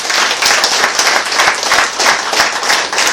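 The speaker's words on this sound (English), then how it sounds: "we give a very, very hearty claps for both of them" Hearty audience applause fills the room at the inauguration of a Zen spiritual group, a dense, steady patter of many hands clapping close and loud throughout.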